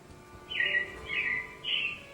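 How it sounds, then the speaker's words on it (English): Robins chirping in the Magic Kingdom theme park: three short, bright bird calls in a row, each about half a second long, clear against a quiet background with no talking. "it looks like the Robins are getting ready to celebrate Valentine's Day today"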